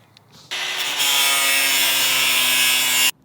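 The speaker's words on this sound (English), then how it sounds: "we're just going to grind away a little bit of the roof of the shingles" A power grinder bites into roof shingles in one continuous harsh rasping burst of about two and a half seconds, loud and close, starting abruptly after a faint lead-in and cutting off sharply.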